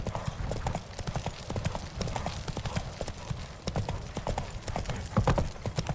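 Horse hooves clip-clop at a steady walking pace in The Witcher 3, close and rhythmic, with faint game ambience beneath.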